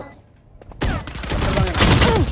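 Gunfire in the shooter game Valorant erupts as a sudden dense burst of rapid shots after a quieter moment and keeps going loud to the end.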